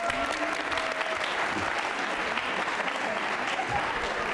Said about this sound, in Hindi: जोरदार तालियां बजाइए साहब।